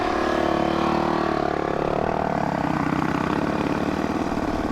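A rebuilt Yamaha TTR 230 motorcycle runs on its first ride, a close, steady single-cylinder engine drone with a fast, even pulse that holds at a constant level throughout.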